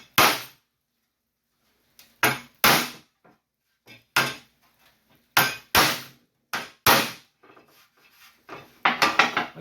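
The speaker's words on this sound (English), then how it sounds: "So now I'm just going to pound this down and see if we can flatten this thing out." Sharp metallic hammer blows flattening sheet metal on a 1951 Chevy body, struck in uneven bursts, single hits and quick doubles, separated by short pauses, loud and close with no talking.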